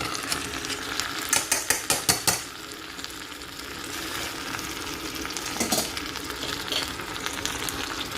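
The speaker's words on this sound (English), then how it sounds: "I'm just going to mix that and incorporate all the seasoning into the callaloo." Callaloo stirred into frying seasoning in a pot for Jamaican-style stew pork and callaloo rice, a quick burst of rhythmic scraping strokes over a continuous sizzle, then quieter occasional stirring.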